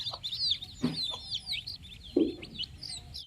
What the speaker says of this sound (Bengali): খেতে দিয়েছি তো মুরগির বাচ্চাগুলো এসেছে খাওয়ার জন্য